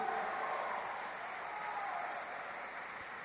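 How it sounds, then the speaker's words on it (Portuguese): Church congregation clapping during a worship service, a dense steady wash of applause holding at an even level throughout, with faint voices mixed in. "dá uma salva de palmas para Deus"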